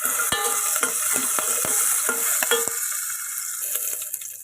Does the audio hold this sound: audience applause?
no